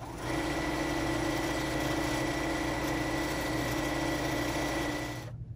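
A sewing machine hums steadily while stitching reusable makeup remover pads, a continuous, close mechanical whir that holds for several seconds before cutting off abruptly.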